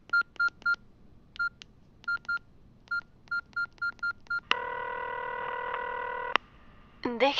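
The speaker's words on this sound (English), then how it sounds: "and I dialed" Touch-tone keypad beeps ring out in short clustered bursts as a phone number is dialed, then a sustained line tone holds for about two seconds before a click and a brief burst at the end.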